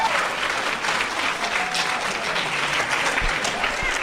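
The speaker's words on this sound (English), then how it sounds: "I want everybody to stand up and give these guys some major applause" A crowd at a live tiki cocktail bartending contest gives a loud, sustained ovation for the winners, many hands clapping in a thick, even wash for around four seconds.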